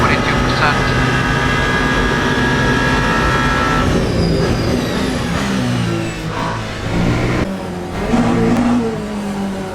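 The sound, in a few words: Penske Porsche race car engine in Le Mans Ultimate video game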